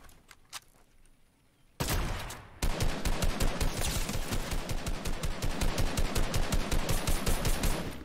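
Rapid automatic gunfire in the video game Fortnite, a sustained burst of evenly spaced loud shots that runs continuously after a short pause and an earlier single report.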